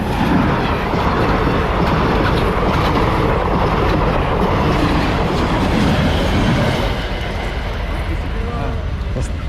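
A very fast train rushes past close by, a loud, steady roar of rolling wheels and rattling carriages that fills the whole stretch before easing slightly near the end, with voices faintly underneath.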